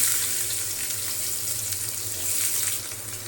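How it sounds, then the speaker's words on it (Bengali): Diced onions frying in a pan of oil after peanuts, a steady close hiss and crackle that swells slightly partway through. "ফেলতেছি পেঁয়াজ দিয়ে দিব পেঁয়াজটা আমি এরকম ছোট ছোট কিউব করে কেটে নিয়েছি"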